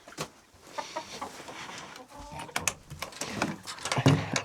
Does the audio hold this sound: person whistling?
no